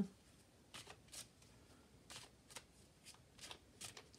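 Tarot cards are shuffled and drawn, faint riffling and flicking bursts in irregular clusters, quiet and close against a low background.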